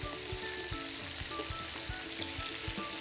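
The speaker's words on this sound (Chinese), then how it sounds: "将啲姜摆落去。" Ginger slices hitting a little oil in a pot while braising lamb brisket, giving a steady soft sizzle with faint intermittent low knocks, fairly quiet and close, no talking.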